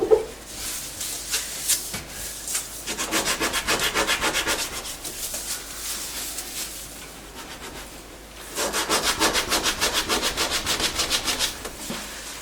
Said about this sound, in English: I'm going to see if this little scrubber pad will do any better